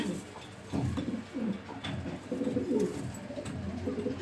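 A racing pigeon coos in repeated low, throaty rolling phrases, close by and fairly clear, with a few soft bird sounds around it and no talking.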